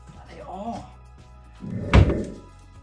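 A kitchen drawer is pulled open to fetch scissors, with a rattle and a solid thunk as it slides out, close by, after someone speaks.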